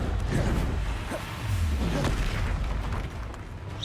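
A Confringo spell in a video game bursts into a loud, continuous rumbling blast with whooshing texture, sustained and dense for several seconds.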